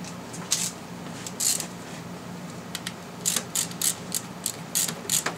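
A hand ratchet tightening an alternator bolt on a 1998–2000 Ford Ranger XLT 3.0L V6 gives off sharp, close clicking bursts in quick irregular runs over a steady background hum.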